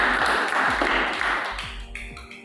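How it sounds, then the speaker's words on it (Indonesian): An audience applauds at a student debate between pro and contra teams, a dense burst of clapping that starts full and gradually thins out over a couple of seconds, with a few dull thumps underneath. "Aplaus untuk kita bersama."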